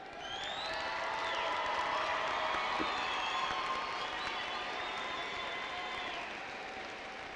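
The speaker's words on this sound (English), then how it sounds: "Let's give these graduates one last round of applause." A crowd at a 2018 high school graduation claps for the graduates, steady broadband applause with scattered cheers and whoops, heard from a distance and fairly faint.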